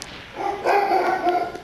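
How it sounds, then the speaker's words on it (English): Dog barking inside a video game, going off just after a gunshot, a few short harmonic barks over game background noise at moderate loudness. "Your gunshot startled the doggy"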